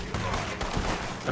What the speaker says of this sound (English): I just unloaded my pistols in his face.